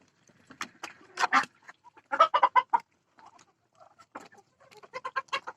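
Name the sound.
chickens clucking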